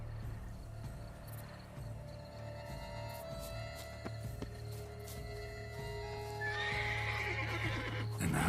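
A horse in The Witcher 3 whinnies loudly near the end, after soft hoof movement and a low ambient hum, with a few faint insect-like tones in the background.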